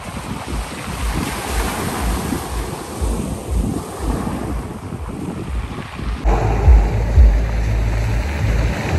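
Sea waves surge and wash up onto a Black Sea beach at Lazarevskoye on a late-September evening, with steady surf roar, wind buffeting the microphone and a heavier rumbling wash near the end.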